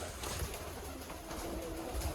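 White pigeons of an Indian breed coo softly on a farm near Edmonton, a low, quiet murmur that repeats steadily over faint background noise, with no talking.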